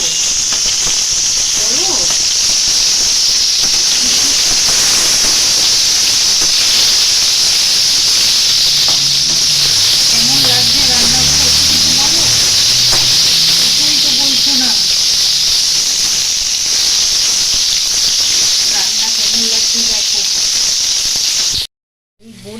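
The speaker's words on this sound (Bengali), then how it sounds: "চিনিটাকে লাল লাল করে ভেজে নিতে হবে" Sugar frying in a pan until browned, a loud, steady close hiss and sizzle throughout, with faint voices talking underneath partway through.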